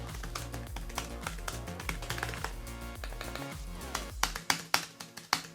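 Typing on a plastic AliExpress folding low-profile keyboard, rapid overlapping key clicks over a busy background, ending in a few louder separate taps.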